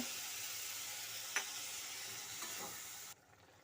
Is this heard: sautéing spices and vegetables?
yes